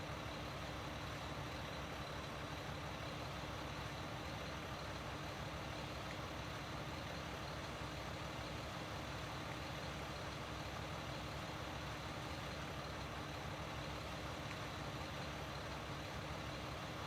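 A military truck driving in the video game Foxhole, its engine a steady, low, continuous drone heard faintly throughout with no talking.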